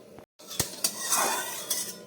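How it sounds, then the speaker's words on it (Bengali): A metal wok is set down on a stove and mustard oil goes in, giving a few sharp clanks and clinks close by, with a soft pouring wash in between. "সজনে ডাঁটা পোস্ত রান্না করার জন্য কড়াই বসিয়ে দিয়েছি, তার মধ্যে দিয়ে দিচ্ছি পরিমাণ মতো সর্ষের তেল"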